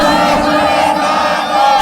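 A large crowd at an Islamic religious gathering in Bogura roars a loud, sustained chant of Allahu Akbar in unison, answering a takbir call, a dense wall of voices with no pause.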